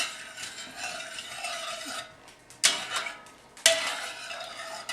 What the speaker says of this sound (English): That's why you have to stir it, because I've got it on like a medium-high heat.